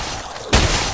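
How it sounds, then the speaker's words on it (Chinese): Gunfire in the survival game Night of the Dead: after a quiet half second, a sudden loud burst of shots erupts and sustains as a dense crackle to the end. "为什么那个双枪的可以从那边开枪啊？"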